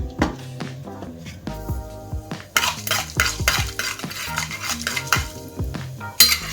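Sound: mustard seeds added to hot oil, sizzling

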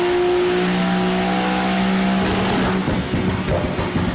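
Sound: Porsche 911 engine revving hard

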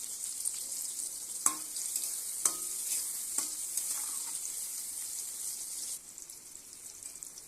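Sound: eggplant frying in hot oil in a wok

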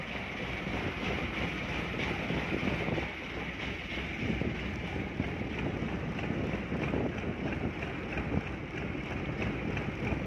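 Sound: boat moving on water

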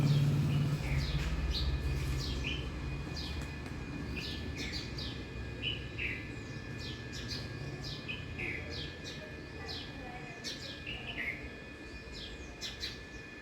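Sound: house sparrows chirping

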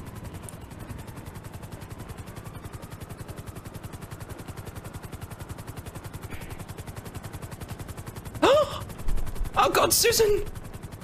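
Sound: helicopter, from a video game

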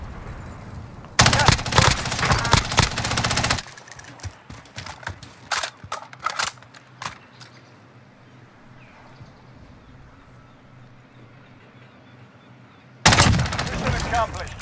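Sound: gunfire in Call of Duty Warzone Resurgence video game

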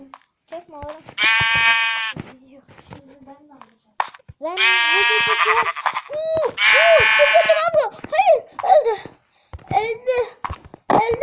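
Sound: sheep bleating in a video game

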